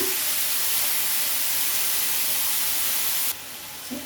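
Honagone greens frying in a pan, a steady broad hiss and sizzle that holds level throughout, then drops somewhat softer near the end, with no talking.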